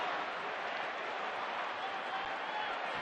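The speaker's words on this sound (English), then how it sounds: "Now we know why the fans are booing" Baseball crowd booing in a stadium during an Arizona at Chicago game, a dense, steady wash of massed voices holding at one level throughout, with no clear individual speech on top.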